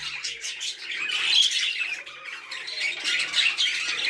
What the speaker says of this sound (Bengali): মেলটা মানে ডাকতেছে মিটিং করার জন্য ফিমেলকে